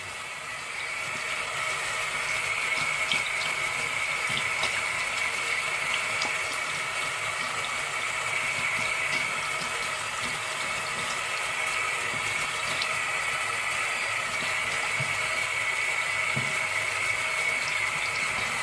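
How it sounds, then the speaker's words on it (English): Tap water runs steadily into a sink while hands are rinsed, a constant close gushing flow with slight splashy variation, uninterrupted for the whole stretch with no talking. "And then we'll rinse our hands off"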